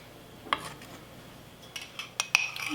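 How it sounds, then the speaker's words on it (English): A spoon scooping carrot cake jam into glass mason jars, with a few light clinks and scrapes, several sharp ones near the end, quiet and close. "I'm going to start scooping this delicious carrot cake jam up into our mason jars"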